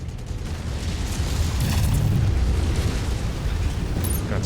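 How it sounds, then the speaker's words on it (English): A missile strikes in a mech combat video game, setting off a loud, deep explosion whose rumble swells and then lingers as a sustained roar for several seconds. "Incoming missile"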